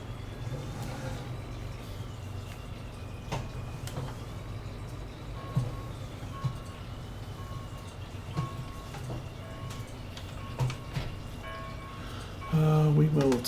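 A truck in Farming Simulator 19 sounds a steady electronic reversing beep over a low engine idle, the tones repeating evenly through the clip, with a louder engine burst near the end.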